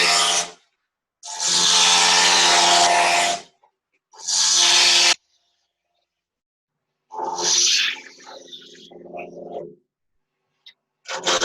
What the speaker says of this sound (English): I'll start with my rough and gouge. I'll stay away from the square corners and rough it out real quick,